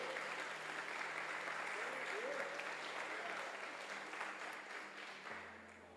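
A church congregation applauds during a sermon, a sustained crowd clapping over a low organ or keyboard drone, with a brief murmur of voices and the applause fading near the end.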